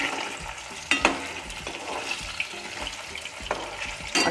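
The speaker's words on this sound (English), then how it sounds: "just for a minute we'll fry" Seer fish (surmai) frying in oil over a medium flame for a spicy curry, a close, steady sizzle with occasional pan knocks and splutters throughout, no voices.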